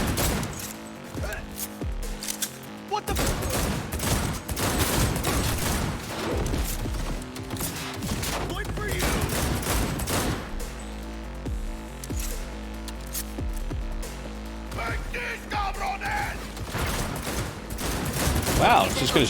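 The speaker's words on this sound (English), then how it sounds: "it's just gonna shoot his way through the wall" Sustained gunfire in the video game Cyberpunk blasts through a wall in long, loud, rapid volleys, with short pauses between bursts and a voice talking in places.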